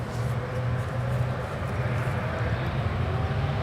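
A KLM heavy jet takes off at San Francisco International Airport, a steady low engine roar with a broad rushing wash, moderately loud and constant at a distance.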